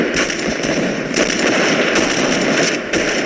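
Rapid automatic gunfire from a newly picked-up weapon in the online shooter Point Blank, a loud continuous burst of shots running the whole time with no pauses.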